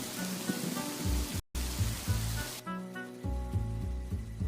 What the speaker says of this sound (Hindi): बीच रास्ते में ही बड़ा सा बारिश शुरू हो गया था।